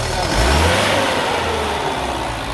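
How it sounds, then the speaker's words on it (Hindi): Mahindra Bolero CNG pickup engine, just repaired after a misfire fault from a bad lead, rises in a short loud rev near the mic, then settles to a steady mid-pitched run. "रेस मारिए एक बार तो दिखाओ, रेस मार के गाड़ी बिल्कुल मिसिंग हट चुकी है"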